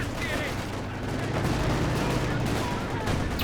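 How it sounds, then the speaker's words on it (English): Artillery barrage rumbling through a multiplayer World War II strategy match, dense continuous low booms and crackling blasts rolling steadily without pause. "There's barrage going down on the center."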